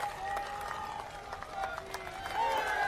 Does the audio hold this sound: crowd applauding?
yes